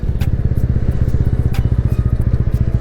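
A 2025 TVS Ronin 225 motorcycle rides along with a rapid, throbbing engine pulse as the rider brakes lightly, the beat staying loud and close with no speech.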